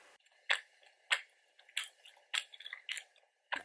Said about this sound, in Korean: 씹는 소리 들으니까 어떤 건지 아시겠죠?